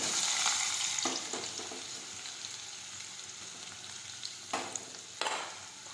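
Mustard seeds, cumin, crushed garlic and chopped onion frying in hot oil for ringan bharthu, a loud hiss that eases into a steady sizzle, broken by a few sharp stirring scrapes near the end.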